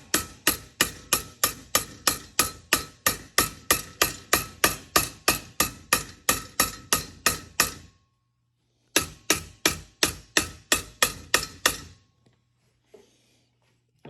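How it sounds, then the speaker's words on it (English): Sheet metal is hammered over an MDF form block in quick, evenly spaced sharp strikes, about two per second. A steady run is followed by a short pause, then another burst of blows that stops abruptly. "You can see that metal just raise up and go back and forth as you hit it."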